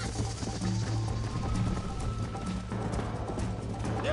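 A horse galloping in the Red Dead Redemption video game, with rhythmic clip-clop hoofbeats running steadily under a low rumble of game ambience and no talking.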